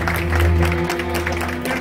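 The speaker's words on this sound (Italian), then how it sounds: "Un applauso a Franco!" An audience bursts into applause for Franco at an arts workshop gathering, a short loud wash of clapping with a voice and some tonal hum running underneath.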